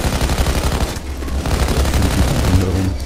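Rapid automatic gunfire bursts loudly and almost continuously in the video game PayDay 2, with a brief lull before more firing, while a player's voice is faintly heard underneath.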